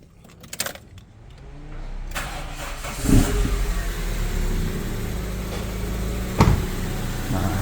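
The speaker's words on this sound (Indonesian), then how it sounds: "terdengar suara mesin super halus. Yang kedengaran kencang hanya injektornya saja." A Toyota Great Corolla's engine fires up after a tune-up with a BlackCore kit. Faint clicks and key jangles come first, then a sharp start settles into a smooth, steady idle with a couple of brief rev bumps.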